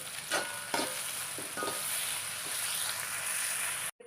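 Crushed ginger and garlic sizzling with green chili in a pan, a close, steady hiss with a few stirring scrapes early on, ending in an abrupt cutoff.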